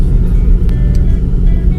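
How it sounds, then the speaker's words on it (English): A car drives along an Okinawa road, with steady low engine and road rumble filling the cabin, constant and fairly loud throughout. "I'm driving home."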